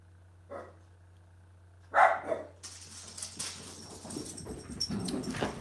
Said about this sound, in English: that's a dog outside barking